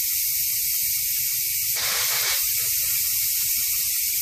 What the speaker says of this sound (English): I'm going to go ahead and release the steam.